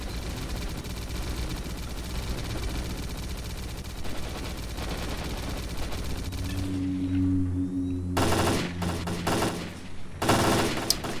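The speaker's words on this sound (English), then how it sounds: "somebody's got like a PKM or something meaty. It's got that womp." Heavy machine gun fire, a meaty PKM-type weapon, in the S.T.A.L.K.E.R. Clear Sky video game: dense continuous gunfire roars throughout, then sharp loud bursts break out near the end over a low droning hum.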